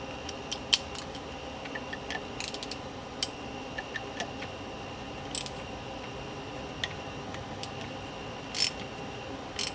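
Socket wrench ratcheting by hand while tightening a brush part on a Rambler generator, a faint series of small irregular ticks and clicks over a quiet background hum.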